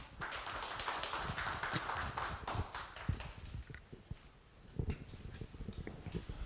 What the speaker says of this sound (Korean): 여러분 뜨거운 박수로 환영해 주세요